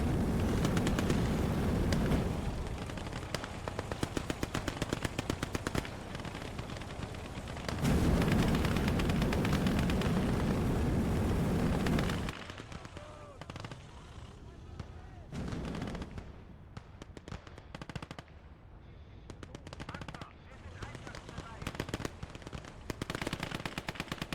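Dense machine-gun bursts and heavy gunfire fill a World War II battle in the game Gates of Hell, loud and rapid, with sustained barrages that ease into sparser shots and distant rumbles, and a voice talks over the action.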